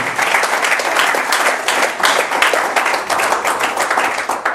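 A church congregation claps and cheers loudly for the Lord, with dense, sustained applause and a few raised voices in the background.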